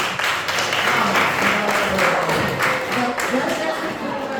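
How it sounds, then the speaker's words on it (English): An audience applauds for Rachel, a steady round of clapping from a small crowd lasting several seconds at moderate loudness. "Round of applause for Rachel."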